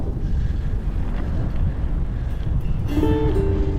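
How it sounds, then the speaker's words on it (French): Steady headwind buffeting the microphone while travelling through the Iranian desert toward Qom, a loud continuous broadband rush throughout, with a faint tonal whine appearing near the end. "ça avance gentiment parce que le vent est passé de face"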